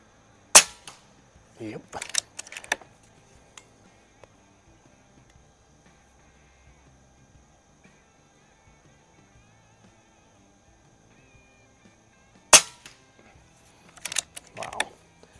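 An Air Venturi Avenger air rifle fires pellets at a 50-yard target, two sharp, close single cracks about twelve seconds apart, each followed by faint clicking of the action, with long near-silent gaps and a brief spoken word.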